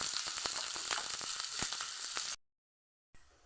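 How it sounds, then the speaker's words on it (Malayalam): Sliced onions frying in hot oil in a pan give a dense, close sizzle with crackling pops, then a sudden silence, then the sizzle comes back briefly. "ഇനി ഉള്ളി ഇട്ടു. ഉള്ളി ഒന്ന് നല്ല ബ്രൗൺ കളറായി വരുന്നവരെ ഒന്ന് കാത്തിക്കാം."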